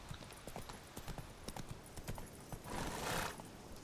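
Roach the horse clip-clops along in The Witcher 3, soft rhythmic hoofbeats at a trotting pace, fairly quiet, with a brief rushing swell near the end.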